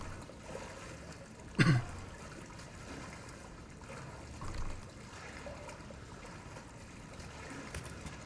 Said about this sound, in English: I mean, it's only loud as fuck water.